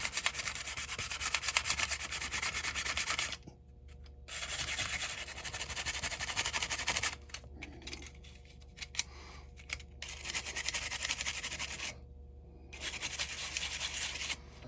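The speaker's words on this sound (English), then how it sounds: "do some more scrubbing up here" Scrubbing on a part of a Lionel 3484 operating box car being repaired, steady close rubbing strokes in several bursts separated by short pauses.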